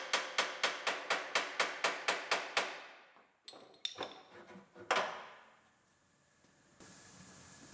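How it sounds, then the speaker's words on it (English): Sharp metallic hammer taps strike in a steady rapid series, about a dozen evenly spaced blows on front-end parts of a collision-damaged 2018 Ford Explorer, followed by scattered clanks and scraping of loose metal parts. "tap it with a hammer, twist it a little bit until they come out"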